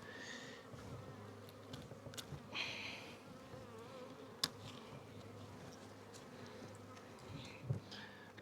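Honeybees buzz steadily from an opened beehive, the nurse bees tightly packed near the queen. A dense, continuous, low hum runs throughout, with faint clicks and handling knocks from working the hive and no talking.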